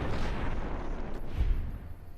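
Explosion in the video game Fallout: New Vegas, a loud, deep, rumbling blast with a dense low-frequency roar that swells and dies away over about two seconds, with no talking.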